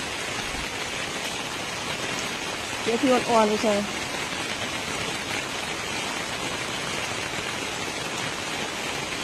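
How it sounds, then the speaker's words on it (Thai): Steady rain falls throughout in a dense, even hiss, with a voice speaking briefly partway through. "ฝนตก"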